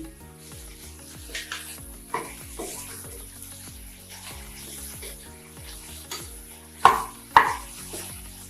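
Drumstick leaves sautéed with salt in a pan, giving a soft steady sizzle with repeated stirring scrapes and two sharper clanks near the end, set against continuous background music.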